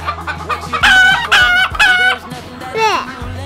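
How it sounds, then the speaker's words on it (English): A chicken at a farm animal sanctuary clucks loudly and close by in several short bursts, with a quieter squawk near the end. "What does the chicken say?"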